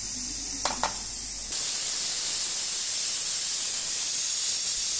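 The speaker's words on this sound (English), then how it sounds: "Tsaka mag-i-steam ako ng lemon" Steam hissing steadily as a lemon is steamed in a home kitchen, a sudden loud constant hiss starting after a few faint clicks and continuing evenly.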